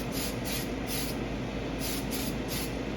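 Spray paint hisses from an aerosol can onto 3D-printed tires in short, even bursts, about five light passes close to the microphone, with no talking.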